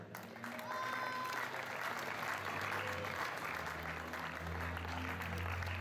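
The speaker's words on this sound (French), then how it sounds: "On peut les applaudir grandement." Crowd applauding at an urban raid race finish and awards ceremony, dense sustained clapping that swells after a brief voice and continues steadily to the end.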